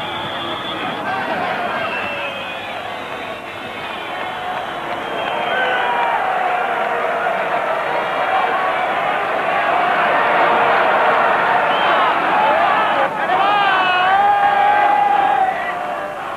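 A large sports crowd of supporters at a cup final roars and chants without pause, a dense, steady wall of voices with swelling cheers and whistles, heard from within the stands.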